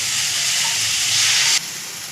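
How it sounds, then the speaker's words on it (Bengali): Water poured into a hot pan of cooked-down spices for a bacha fish curry with potatoes and pointed gourd makes a loud, close, hissing sizzle of steam that drops off abruptly near the end. "এবার আমি পরিমাণ মতো জল দিয়ে দেবো"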